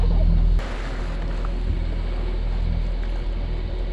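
Sailboat motor-sailing across an open bay in the Exumas, with a steady low engine drone mixed with wind and water rush, close and continuous with no talking.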